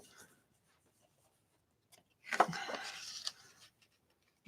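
Paper being trimmed for a folder zine, a short scraping cut lasting about a second and a half amid otherwise quiet surroundings, close and fairly soft.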